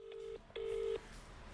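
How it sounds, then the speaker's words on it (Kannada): Telephone keypad tones sound as a number is dialed for a prank call: two steady beeps, the second longer, quiet and close with no talking. "ಈಗ ಇನ್ನೊಂದ್ಸಲಿ ಕಾಲ್ ಮಾಡ್ತೀನಿ."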